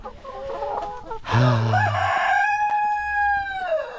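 A rooster crows loudly and close among farm laying hens, one long drawn-out call with a falling tail, over softer clucking and a quiet yard background.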